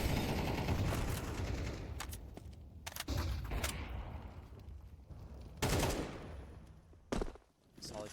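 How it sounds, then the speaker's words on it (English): Rapid bursts of rifle fire in a Counter-Strike match, loud clustered volleys and single cracks in quick succession with short pauses between, over game ambience and a faint commentating voice. "Solid shot from Arfrost."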